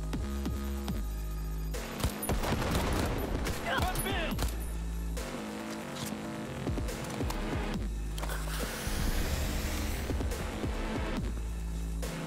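Turret gunfire in the video game Cyberpunk 2077, rapid automatic bursts and impacts mixed with game music and effects, with someone talking over the action.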